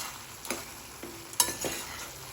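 A vegetable curry with pepper and coriander being mixed in a pan, a few scraping stirs of a spoon over a low sizzle, brief and close.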